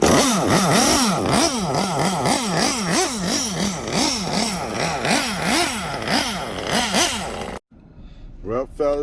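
A small engine with an idle stop screw that cannot be adjusted runs with a rough, rhythmic surging idle, loud and close, then abruptly cuts off; a voice follows briefly in the quiet afterward.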